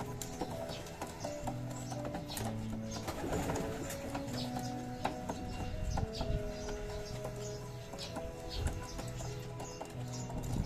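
Racing pigeons coo in soft, repeated low calls amid a busy loft, with scattered wing flutters, clicks and other bird noises, fairly faint throughout.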